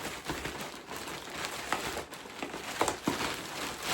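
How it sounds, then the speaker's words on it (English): Paper title slips are shuffled around inside a bag, making continuous soft crinkling and rustling up close with a few crisper crackles and no talking. "all the titles are now in the bag. We're going to shuffle them around."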